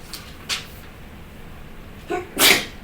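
A short intake and small burst, then a sharp, close sneeze near the end, with quiet between.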